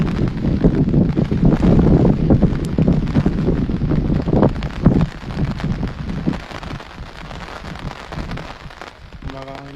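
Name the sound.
strong wind blowing during a sailing race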